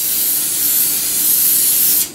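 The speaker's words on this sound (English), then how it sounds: "I'm going to spray this with a bit of cooking spray" A steady, loud hiss of an aerosol can of cooking spray spraying into a container for about two seconds, then cutting off sharply.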